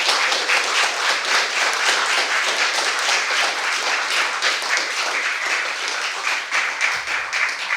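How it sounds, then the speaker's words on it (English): An audience at a political organization's launch event gives a round of applause, thick and continuous clapping with slight swells in loudness, easing a little toward the end. "Let's give all of them a round of applause."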